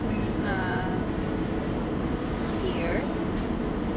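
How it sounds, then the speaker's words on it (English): Rumbling interior of a Eurotunnel shuttle train carrying cars to England, a constant low rolling roar with faint squeals of wheels on rail, heard from inside the carriage without speech. "Okay, now we are boarding the Eurotunnel. This is the Eurotunnel, ladies and gentlemen. The train that will take us to England."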